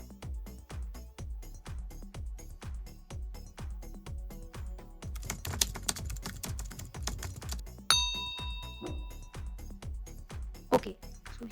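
Fast, steady typing on a computer keyboard entering a website address, close and continuous clicking keystrokes with a brief bright chime near the end, a voice speaking over part of it.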